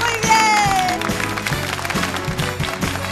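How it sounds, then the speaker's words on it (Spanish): Applause rises for a contestant on a home-cooking TV show, a steady wash of clapping blended with bright music that plays throughout. "Aplausos para ella."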